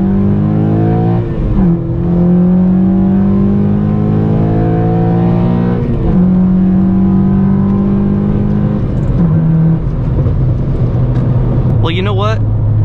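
A 9th-generation Honda Civic Si launches and accelerates hard, its engine rising in pitch through several gear changes in a loud, close, in-cabin roar, with a voice speaking over it near the end.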